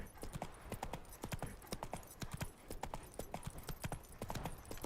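Hooves of the horse Roach clip-clop steadily in a video game, a brisk regular walking rhythm of close, crisp knocks running throughout without talk.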